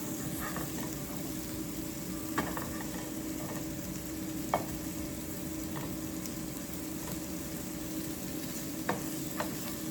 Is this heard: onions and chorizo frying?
yes